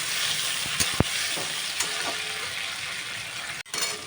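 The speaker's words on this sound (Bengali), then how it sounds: "আলু পেঁয়াজটা কিছু সময় ভাজা ভাজা হয়ে গেলে এবার আমি টমেটোটাও দিয়ে দিলাম, এর সাথে ভাজা ভাজা হবে।" Potatoes, onions and tomatoes frying in a pan, a steady close sizzle with a few sharp clicks of a utensil against the pan.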